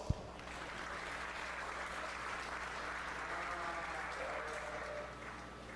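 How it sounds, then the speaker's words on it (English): Crowd applause at a 4-H fair sheep show, a sustained even wash of clapping from many people lasting several seconds after a sharp opening thump, with no talking over it. "Give yourself a round of applause."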